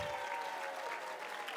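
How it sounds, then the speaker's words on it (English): An audience at a university convocation applauds new faculty, staff and students, a dense, steady wash of clapping from a large crowd that carries on evenly throughout. "We have to applaud until it hurts."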